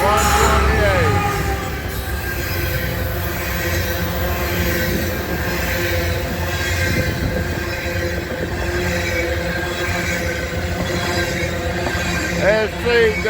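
A northbound coal train out of Pennsylvania on the Norfolk Southern line, hauled by CSX locomotives, rumbles steadily close by with rolling wagon noise and brief wheel squeals, while someone talks over it.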